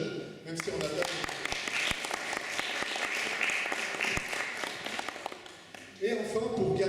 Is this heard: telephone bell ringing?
no